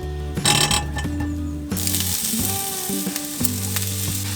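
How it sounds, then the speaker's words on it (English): Steady sizzling and crackling of vegetables and falafel frying in coconut oil in a hot pan, with occasional clinks and scrapes of stirring throughout. "Now we're gonna put some coconut oil into a frying pan and we're gonna fry the veggies and the falafel"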